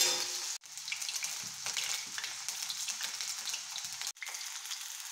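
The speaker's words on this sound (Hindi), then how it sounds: "तो मैं इसी तरीके से सारे आलू फ्राई कर ले रही हूँ" Potato pieces frying in hot oil in an Indian village kitchen, a steady close bubbling sizzle with crackling texture throughout, briefly dipping twice, with no talking.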